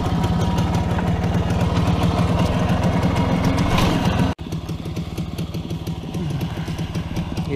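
A WSK 125 motorcycle's small two-stroke engine runs steadily with a rapid buzzing, rattling putter, loud and close, briefly cutting out for an instant before resuming at a slightly lower, uneven idle.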